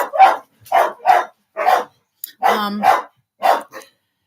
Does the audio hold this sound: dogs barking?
yes